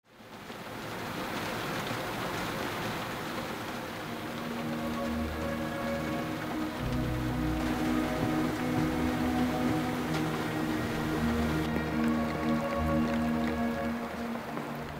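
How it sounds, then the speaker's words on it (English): Steady rain drums on a boat moored in the Alaskan wilderness, a dense, even patter of drops with a low hum beneath, continuous and fairly close throughout with no voices. "the rain continued seemingly non-stop and in great amounts"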